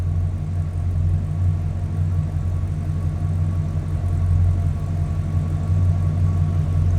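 A 1970 Buick Electra 225 Custom convertible's engine idles steadily, a deep, even low rumble held up close for the whole stretch with no talking.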